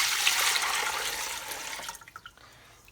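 Liquid poured back into a cauldron during a tofu-making chemistry project, a loud broadband rushing pour for about two seconds that thins into trickles and drips.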